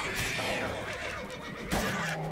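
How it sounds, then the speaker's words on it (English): Horse whinnying in The Witcher 3, a single drawn-out neigh carried over dense game ambience and fire noise, fairly loud throughout with a brief surge near the end. "the first attack of the day is on a horse"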